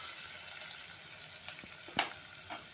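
Onions and green chillies frying lightly in a pan for an amaranth stew make a soft, steady sizzle with occasional faint stirring taps, heard alone.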